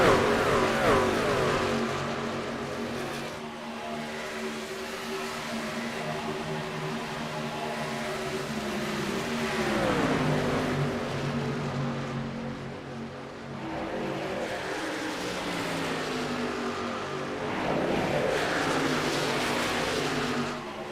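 Race truck engines in a racing video game drone and whine side by side, their pitch sweeping up and down as they accelerate and ease off, a continuous, layered roar with no talk.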